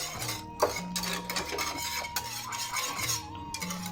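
A spoon stirs white sauce pasta in a pan, giving repeated scraping and clinking strokes against the metal at a steady rhythm, close and fairly quiet with no talk.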